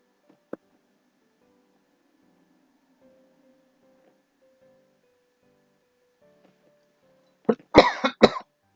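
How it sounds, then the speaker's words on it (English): Near-silence with a single faint click, then a short burst of three or four harsh coughs close by at the end. "I thought my cough was pretty much gone, but I guess there it is."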